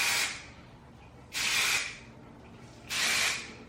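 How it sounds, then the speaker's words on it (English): Hairspray is sprayed onto the roots of sectioned hair in three close, even hissing bursts, each about half a second long, with short quiet pauses between them. "I just pull my hair up in sections and I spray like the root to the middle"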